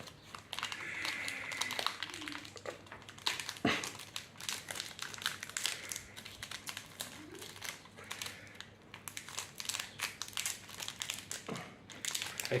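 Pokémon card booster pack wrappers are torn and crinkled close up in repeated irregular bursts of foil crackling and ripping. Faint background noise runs between the bursts and no clear talk is heard.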